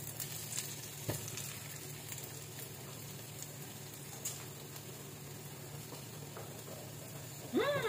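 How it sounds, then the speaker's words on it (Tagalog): Garlic and onion sauté in a pan for a Filipino ginisang upo dish, giving a steady soft sizzle that stays even throughout with no talking. "Lutuin natin itong bawang at sibuyas."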